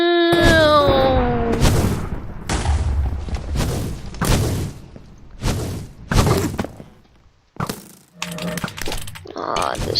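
Bombs explode in the Minecraft minigame Super Smash Mobs, a series of loud booming bursts spread across the stretch, with excited talking and shouting between and over them.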